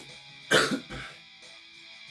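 A single harsh cough or throat-clear bursts out close up, followed by a softer second rasp, then quiet.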